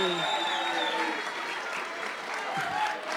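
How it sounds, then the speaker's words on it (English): Children clapping at a jazz music workshop, a dense steady patter of many small hands filling the room, with faint voices and crowd murmur underneath. "Yeah, kids keep clapping."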